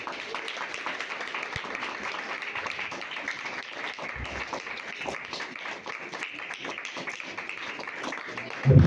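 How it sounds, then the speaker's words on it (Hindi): Steady applause fills a church welcome for a pastor and his family in Pakistan, a dense, continuous clapping crowd sustained throughout with a loud thump at the very end. "तालियां बहती रहनी चाहिए"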